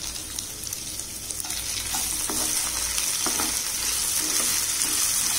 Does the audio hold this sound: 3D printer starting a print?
no